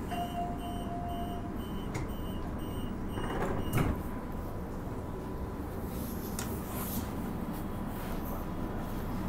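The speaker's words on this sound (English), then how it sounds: "Doors closing." Sliding doors on a suburban train close at Maylands station, a brief clunk and rush of motion partway through amid a constant low rumble of the carriage, with faint chime-like tones early on.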